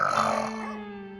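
A woman snoring in her sleep, a single loud, rough rasping snort that fades into a drawn-out, trailing breath over about a second.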